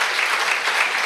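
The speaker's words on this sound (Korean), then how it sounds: "교수님께 다시 한번 감사와 축복의 박수 해주시면 감사하겠습니다." Congregation applause in a church during a fasting prayer meeting, thanking a visiting professor after his lecture. It is a dense, steady wash of clapping, loud and close, with no break.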